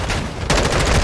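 Gunfire in the Call of Duty: Modern Warfare II campaign, a loud, close burst of rapid automatic shots that starts abruptly midway and rattles on steadily to the end.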